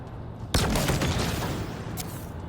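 Gunfire in the shooter game Halo Infinite: a loud sudden burst of shots that becomes a dense, sustained roar of weapon fire and explosions, heard alone without voices.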